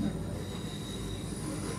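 A metro train runs with a continuous rumble and a faint high whine, steady and close as if from inside the carriage.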